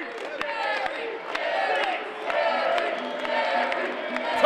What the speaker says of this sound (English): Crowd solidly chanting for Gary J.